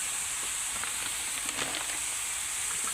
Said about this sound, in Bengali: এখন সেই নারকেলটা দেওয়ার পরে আবার কিছুক্ষণ নেড়ে চেড়ে ভেজে নিতে হবে